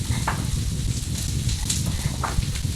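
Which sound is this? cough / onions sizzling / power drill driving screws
onions sizzling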